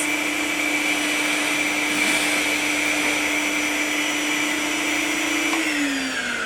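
Vacuum cleaner nozzle hovering just above the clamped page edges of a book, a loud continuous whine with steady tones that drops slightly in pitch near the end.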